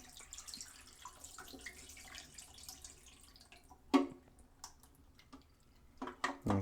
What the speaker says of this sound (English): That's going to slowly just pour down the sink.